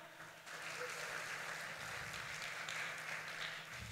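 Sustained audience applause fills a church conference hall, a broad wash of many hands clapping at steady volume from start to finish, with a faint background hum.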